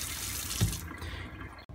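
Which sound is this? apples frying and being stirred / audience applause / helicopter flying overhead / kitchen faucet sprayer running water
kitchen faucet sprayer running water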